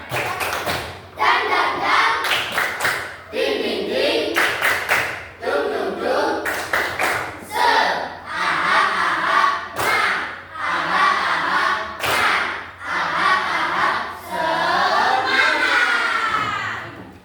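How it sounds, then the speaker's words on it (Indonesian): A class of fourth-grade children claps in a fast, patterned rhythm with chanting voices, loud and close, repeating in bursts. "Tepuk semangat"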